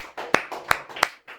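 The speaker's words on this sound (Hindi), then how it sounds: "एक बार जोरदार, एक बार वैष्णवी के लिए तालियां" An audience claps for Vaishnavi in a law lecture room, a few scattered hand claps landing in an uneven rhythm, close and moderately loud, with no talk over them.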